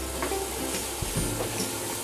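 Crushed ginger, chili and onion fry in a pan while being stirred, a steady close sizzle with scraping stir strokes and a sharper knock partway through, no voices.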